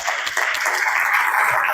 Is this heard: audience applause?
yes